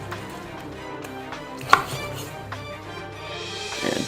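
A knife cuts down the middle of a rack of smoked BBQ ribs cooked on a Pit Boss Pro Series smoker, giving one sharp crunching chop followed by quieter slicing scrapes and a rustle near the end, with no talk.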